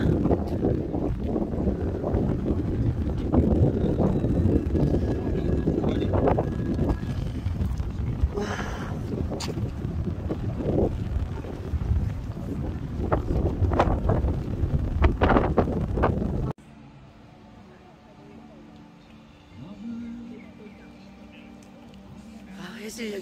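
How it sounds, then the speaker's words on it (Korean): Wind rushes and buffets steadily at the summit of Geumosan mountain, loud and close for most of the stretch, then drops sharply to a quieter hush. Voices talk intermittently beneath it. "그때 바람이 불어서 너무 좋다"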